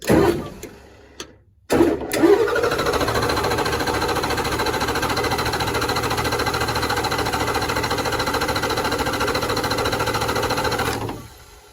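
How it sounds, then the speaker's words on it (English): A 1994-1997 Ford 7.3 diesel engine cranks loud and steady while priming fuel after a filter change, a brief stop-start near the beginning and then a long continuous whirring drone that cuts off at the end. "just give it a few seconds break between cranking here"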